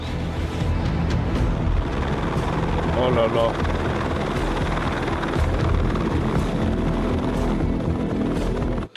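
A helicopter flies close and loud with a steady rotor and engine roar throughout, over snowy Everest, while people talk and exclaim over it.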